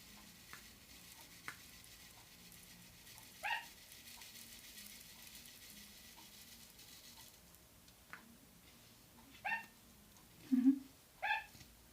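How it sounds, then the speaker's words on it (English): A few soft, high, yappy barks from a sugar glider barking in its sleep, spaced apart over a quiet background with faint clicks. "That's my glider barking."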